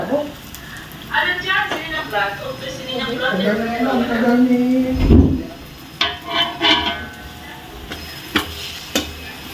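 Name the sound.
frying ground meat, garlic, onion and carrots in pan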